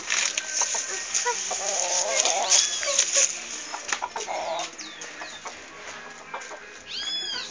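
A rooster clucks and squawks up close, in several short bursts with brief high calls, loud against a quiet outdoor background.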